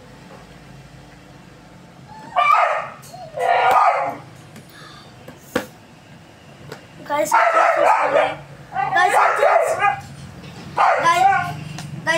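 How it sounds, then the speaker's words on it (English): A dog barks in several bursts, some quick and yappy, spaced with pauses, fairly close, while a person speaks briefly. "It's just my dog."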